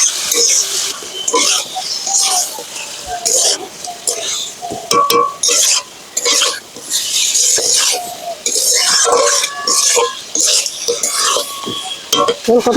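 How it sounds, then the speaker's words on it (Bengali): Chicken pieces, already washed, are mixed by hand on a plate in a home kitchen, giving soft squelching and scraping with occasional clinks of the plate, carrying on steadily for several seconds with background noise throughout. "আমি মাংসগুলো সব মিক্স করে নেব"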